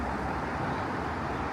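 Steady city road traffic on Bonfire Night in Sheffield, a continuous, fairly loud broadband roar of passing vehicles with no distinct events or voices.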